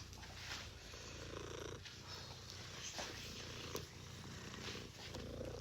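A cat purrs up close while being handled, a steady low rumbling purr that runs throughout with a slight pulsing rhythm and some rustling.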